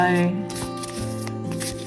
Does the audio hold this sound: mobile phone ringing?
no